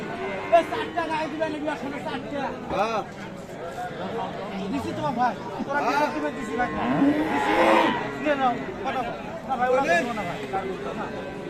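Sahiwal cows with calves low at a village cattle market, their moos rising over busy crowd chatter and voices talking nearby.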